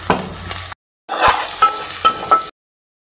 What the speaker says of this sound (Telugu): ఆల్రెడీ నూనె పోసిన, హీట్ అయితే అయ్యింది. ఉల్లిగడ్డ అయితే వేసిన, అట్లనే 2-3 పచ్చిమిర్చి